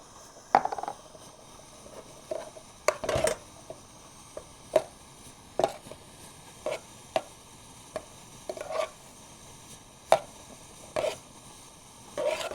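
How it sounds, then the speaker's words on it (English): Food stirred with a utensil inside a French M35 metal mess kit, giving a dozen or so scattered, sharp scraping clicks and clinks at an uneven pace, fairly close, over a quiet background. "you want to give this a good stir"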